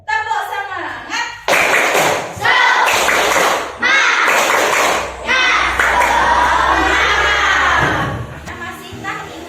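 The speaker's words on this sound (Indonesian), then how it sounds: "Tepuk semangat." A group of children in an Indonesian classroom clap in rhythm while chanting loudly together, voices close and energetic, with a few short pauses between bursts.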